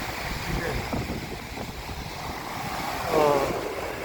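Ocean waves wash onto the sand at Gwangalli beach, a continuous surf wash mixed with wind noise, swelling slightly near the end.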